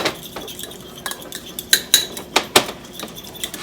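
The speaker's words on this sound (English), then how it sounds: "And you're just going to mix those real well until it's nice and creamy. Now you can use a little hand whisk or a fork." Yogurt and eggs whisked by hand with a small whisk or fork in a bowl: irregular metallic clinks and scrapes, some sharper taps standing out, close and fairly clear.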